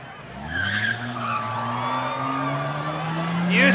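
Minivans launching side by side in a spectator drag race at Rockford Speedway, engines revving up with rising, sustained roars and brief tire squeal, loud and close, with a voice briefly audible over the noise.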